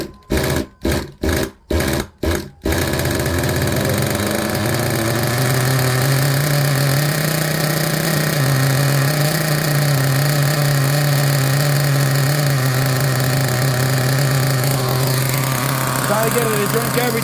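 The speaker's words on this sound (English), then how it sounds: "what I love about this engine is, you see how when she drains out, she doesn't rev crazy" A Team Associated RC nitro engine idles during break-in, opening with several rapid on-off bursts before settling into a steady, loud buzzing drone that holds for the rest of the clip.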